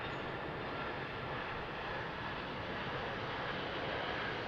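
A U-135 aircraft taxis on the ground at Harrisburg International Airport, a continuous broad engine roar and whine, steady and fairly loud, with no talk.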